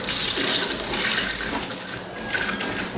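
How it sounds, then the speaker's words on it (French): Water rushing through newly connected shower pipes on a building site, a continuous loud hiss and gush with no pauses. "Donc là, vous suivez ce fameux bruit qui est la preuve que l'eau passe dans les tuyaux."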